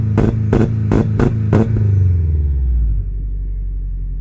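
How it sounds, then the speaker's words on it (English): A Subaru fitted with a California AB1824-legal exhaust does a two-step launch rev: five sharp rapid pops in a row, then a deep revving rumble that settles into a steady low idle, loud and close. "have Johnson get in the car and rev it up, do the two-step again like we did with the G200 exhaust, but it definitely seems a lot quieter."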